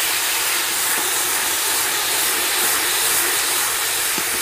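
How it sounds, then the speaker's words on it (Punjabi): Onion and garlic paste sizzles loudly in hot oil with roasted cumin for an aloo baingan curry, a dense, steady frying hiss filling the whole stretch, close and with no talking. "ਹੁਣ ਆਪਾਂ ਇਹਦੇ ਵਿੱਚ ਪਿਆਜ਼ ਪਾ ਦਾਂਗੇ, ਪਿਆਜ਼ ਅਤੇ ਲਸਣ ਦਾ ਜਿਹੜਾ ਪੇਸਟ ਹੈ ਉਹ ਪਾ ਦਾਂਗੇ"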